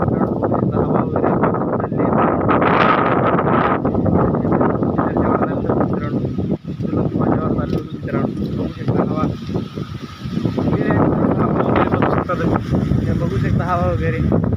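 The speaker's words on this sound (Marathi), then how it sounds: "यहाँ पे बहुत हवा आली आहे" Strong wind buffets the microphone outdoors as a storm approaches, a loud continuous roar with gusts and a brief lull midway, while someone talks over it.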